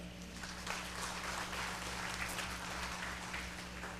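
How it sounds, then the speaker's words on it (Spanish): An audience at a public-sector directors' panel claps together, a continuous patter of many hands under a steady low hum, fairly faint and distant. "Un aplauso para Ricardo."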